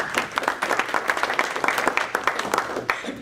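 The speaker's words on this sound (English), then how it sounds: "let's just give Laura a big round of applause." Audience at a Rotary Club meeting in Sanford, North Carolina gives a sustained round of applause, dense overlapping clapping at moderate loudness filling the room throughout.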